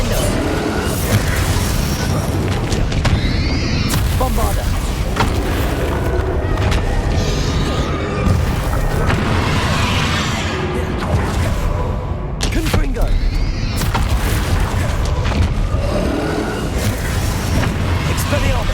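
Confringo and Bombarda spell blasts in the Hogwarts Legacy video game, a dense run of booming explosions and thuds over continuous battle noise, with voices calling out during the fight.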